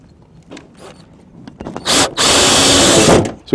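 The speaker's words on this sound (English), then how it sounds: "Now we'll just install our screws." A power drill drives screws during a direct vent fireplace installation, with a few light knocks and handling sounds followed by a loud, close burst of drilling that stops briefly and then runs for more than a second.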